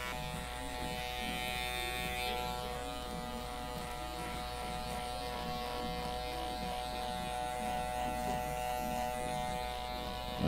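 Electric beard clippers hum steadily while a barber trims and shapes a big beard, a close, quiet, continuous buzz with slight changes in tone as the blades move through the hair.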